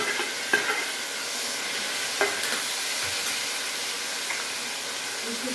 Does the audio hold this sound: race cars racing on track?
no